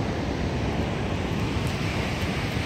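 Steady broadband rush of water flowing through Taylorsville Lake Dam in Kentucky, a continuous roar with wind buffeting the microphone, heard up close and alone without any talk.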